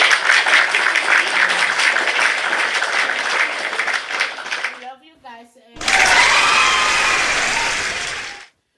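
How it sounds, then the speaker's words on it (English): An audience claps at the close of an evening show: dense clapping that fades briefly while a voice speaks, then swells again and cuts off abruptly. "It's a clap."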